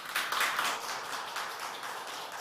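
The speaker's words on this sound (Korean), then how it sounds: "박수로 맞이해 주세요" Audience applause welcoming a presenter from the Busan Creative Economy Innovation Center at a Korean social venture forum, a dense steady patter of many hands filling the room for a couple of seconds with no voices.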